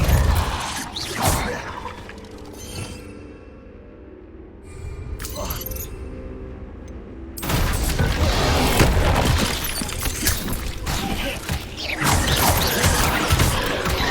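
Depulso spell cast in Hogwarts Legacy, a forceful magical whoosh and impact boom amid a string of spell effects, loud crashing and mechanical clatter with a louder burst in the second half, voices speaking over it.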